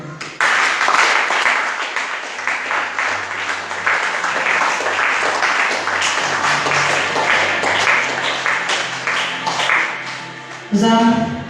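A church congregation applauds the Lord during a service, with loud, dense clapping from many hands that fills the room and carries on steadily before a brief break near the end.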